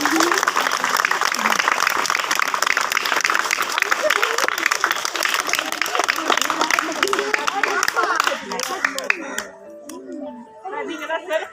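Sustained applause from a crowd at a school Pongal festival, dense clapping that thins out near the end, with children's voices and talk mixed in.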